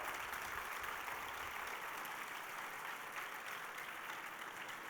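A church congregation applauds during a sermon, a continuous, soft wash of many hands clapping that sounds fairly distant and holds steady throughout.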